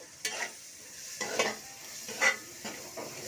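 Sautéed onions are stirred in a pan for a fish curry, a quiet frying hiss punctuated by four or five distinct spoon scrapes and knocks against the pan, close and without talking.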